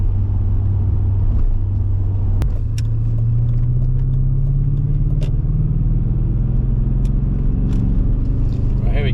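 MG ZT 260 V8 rumbling steadily on winding country lanes, a deep continuous engine drone with a gradual rise in pitch as it pulls, heard close from inside, with a few faint clicks and rattles over the top.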